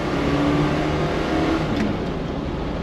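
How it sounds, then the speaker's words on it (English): A deep, throaty V8 engine of a Chevrolet Chevelle SS muscle car roars steadily under throttle in first gear, close and loud, with a rumbling burbling tone throughout. "we're in first gear, on throttle. Nice sound from that V8."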